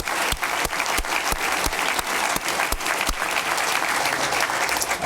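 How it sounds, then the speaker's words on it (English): A hall audience at the 2013 Pearl Meister Greengard Prize award ceremony applauds: dense, steady clapping close by, holding for several seconds without a break, with sharper individual claps standing out. "I think we'd like to give you a round of applause for that as well"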